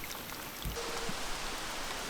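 Steady rain falls outdoors at a campsite in New England while camp is packed up, a dense, even hiss of drops with a couple of soft nearby thuds.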